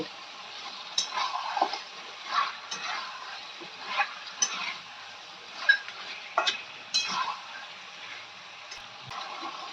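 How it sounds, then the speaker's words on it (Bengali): Mutton and ground spices, including cumin powder, stirred in a pan, a series of close scraping, squelching stirs in irregular bursts over a light sizzle, no talking. "এবার ভালো করে আমি নাড়াচাড়া করে নেব মিক্স করে নেব"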